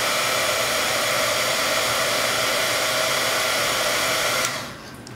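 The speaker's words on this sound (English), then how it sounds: "Use the heat gun." A heat gun blows hot air onto shrink tubing, a loud, steady whooshing roar of airflow up close that runs unbroken before dropping off sharply as it shuts down.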